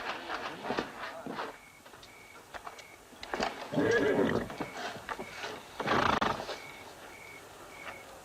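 A horse whinnies loudly twice in a row, with shuffling and clopping sounds around it and no talking.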